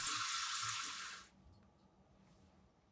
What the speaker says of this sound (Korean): 시간 되면 흐르는 물에 꼼꼼히 씻어